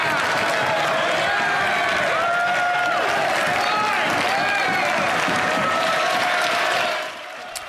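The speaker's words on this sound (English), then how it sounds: "the Liberal getting all the applause from the Conservatives there is Ken McDonald" Conservative MPs in the Canadian House of Commons applaud a Liberal colleague, sustained clapping and cheering mixed with voices across the chamber, loud throughout before cutting off abruptly near the end.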